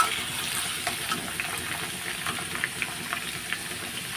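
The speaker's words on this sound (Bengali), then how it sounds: "এখন আমি লাল লাল করে আলুগুলো ভেজে নেবো" Potatoes fry in a pan with a soft, steady sizzle and a few faint crackles and stirring sounds, fairly quiet throughout.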